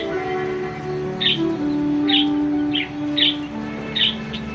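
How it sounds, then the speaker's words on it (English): Nomadic water birds calling at a newly formed lake, several short chirping calls spaced out over a steady, low background hum. "Nomadic water birds are quick to find the new lake."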